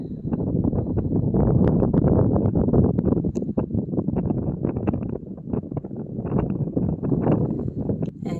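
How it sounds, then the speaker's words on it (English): Strong wind blowing steadily and loudly outside a house during a winter snowfall, with gusty buffeting on the microphone throughout and no speech. "as you can hear, the wind is still rather windy"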